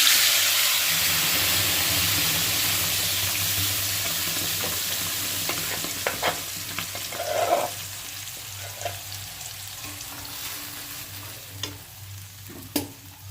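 Pea paste frying in a pan with black cumin and ginger sizzles loudly at first, then settles into softer spluttering with scattered sharp pops and stirring sounds.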